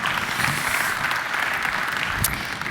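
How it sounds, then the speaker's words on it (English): Audience applause at a cybersecurity summit opening session, a steady dense clatter of many hands filling the whole stretch at close range, without any voices over it. "I think we can give him a warm round of applause."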